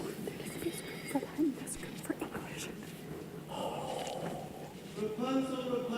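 Horse whinnying and snorting with hooves clip-clopping nearby, heard in short bursts under a narrator's voice speaking over it.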